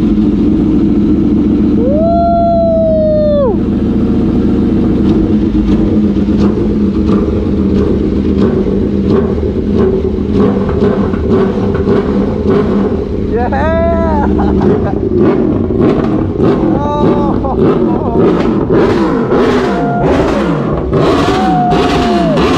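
An Aprilia Tuono V4 1100 fitted with an SC Project exhaust revs hard and loud up close, with repeated sharp throttle blips and rising, falling wails over a rumbling idle.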